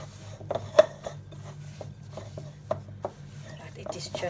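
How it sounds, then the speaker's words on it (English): Flour being worked by hand in a bowl for a South African milk tart, with soft scattered rubs and a few sharper taps against the bowl over a low steady hum, close and fairly quiet. "now I'm going to go in with my hand. Just want to get all that flour into this bowl."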